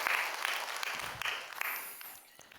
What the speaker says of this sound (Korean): 여러분 박수 한번 해주셔요